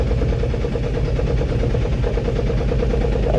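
A car engine running at a steady idle, loud and close, with a continuous low rumble and no voices.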